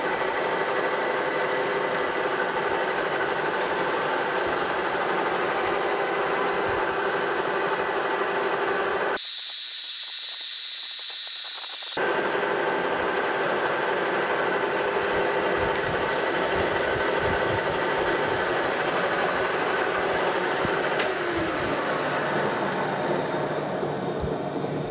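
A horizontal mill does cylindrical grinding on a fixture, giving a continuous loud, hissing whine that holds steady throughout except for one abrupt few-second break in the middle.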